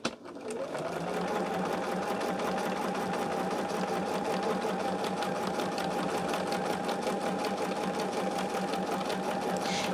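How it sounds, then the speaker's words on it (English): A sewing machine runs steadily and close by for the whole stretch, stitching a seam on a charm tote bag a quarter inch from an earlier stitch line, its rapid even whir continuous with no talk over it. "put my foot on that stitch line and just go 1/4 of an inch from it"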